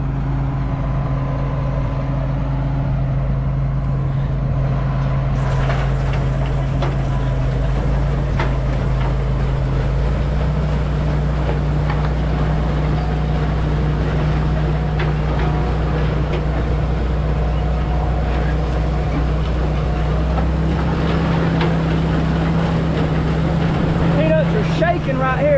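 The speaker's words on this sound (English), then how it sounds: "So the very front of the machine is a plow, the middle part's a shaker" A peanut digger-shaker harvesting green peanuts, its plow at the front and shaker in the middle, gives a steady low mechanical drone and rattle throughout, with people talking over it.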